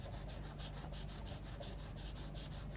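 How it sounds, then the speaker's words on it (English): Charcoal pencil scratching dark zigzag marks onto paper, a fine dry rasping in quick, even back-and-forth strokes, soft and close with steady rhythm. "work some dark zigzag scratchy marks over the top of the eye"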